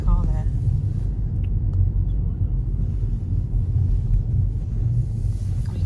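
A car on a country road near a farm, heard as a steady low engine rumble and road noise close by, with wind buffeting the microphone throughout.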